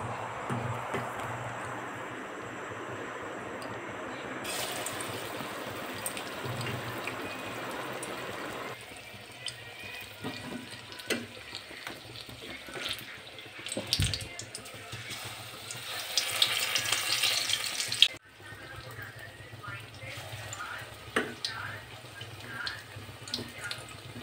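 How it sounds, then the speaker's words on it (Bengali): Bora fritters dropped into hot oil, a steady sizzling hiss that swells louder midway and crackles on, close and continuous with no talk. "তেল গরম হয়ে গেছে, তেলের মধ্যে এবার বড়াগুলো দিয়ে দেবো।"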